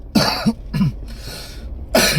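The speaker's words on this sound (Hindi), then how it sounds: "तो थोड़ी सी अभी खांसी हो गई है" Several coughs in quick succession, close and fairly loud, followed by a short pause and one more cough.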